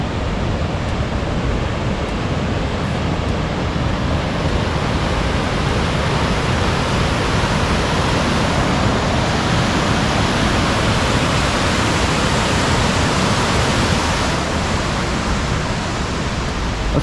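Waterfall in West Burton, a village in the Yorkshire Dales, pouring in a steady, loud, broadband roar that stays even and unbroken throughout, with no voices.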